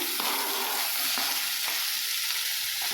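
Tomatoes go into a pan of frying onions and ginger-garlic paste for Chennai vada curry, giving a steady, close sizzle with a few stirring scrapes and no voices.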